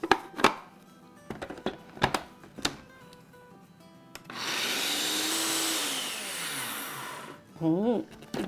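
After a few sharp knocks, an electric grinder whirs loudly for about three seconds as it grinds spices into powder, its pitch shifting as it runs, then stops, with brief handling noises afterward.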